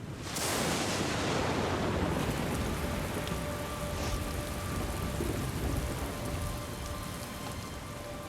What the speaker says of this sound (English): a violent storm blows into the canyon